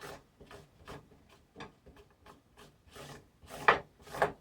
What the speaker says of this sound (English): definitely the best method to remove these bristles, using a chef's knife